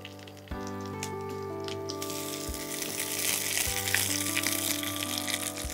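Food sizzling in hot mustard oil for a shrimp paturi dish wrapped in bottle gourd leaves, a steady close frying hiss that grows louder and fuller after a few seconds, with a few clinks and stirring sounds.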